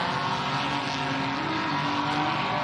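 A healthy 6-litre race car engine pulls away from the start line at a circuit event, a loud, steady, dense roar with rising pitch through the whole stretch and no talking over it.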